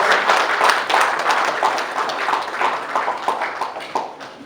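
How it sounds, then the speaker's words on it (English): An audience claps steadily at a cricket tournament opening ceremony, a dense wash of applause at moderate distance with no single voice standing out. "Please give him a round of applause."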